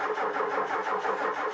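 A motorhome's diesel engine cranks and catches after three years standing, a steady mid-pitched churning roar that carries close and loud through the whole moment with no pause or break.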